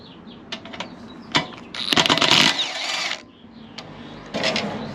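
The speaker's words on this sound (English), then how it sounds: "Use the power tools." A power tool whirs in short bursts, loudest in one sustained run near the middle, while backing out a 12mm bolt on a Yamaha MT-07 exhaust in a garage, with clicks and handling noises between the bursts.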